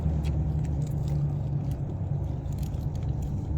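A sports car engine idles or rumbles nearby in a low, steady, throaty drone, heard alone without talk.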